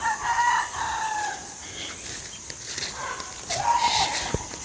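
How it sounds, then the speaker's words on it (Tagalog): Chickens cluck and a rooster crows at a distance, faint calls rising over a quiet outdoor background. "At si kuya maraming mga manok dyan."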